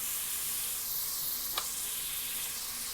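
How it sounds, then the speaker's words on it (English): Salted butter sizzling in a hot pan before onions go in for cheesy beef macaroni, a constant even hiss with one small pop, close and steady, no talking. "we're going to start to brown the onions, and I'm going to be browning them in some salted butter"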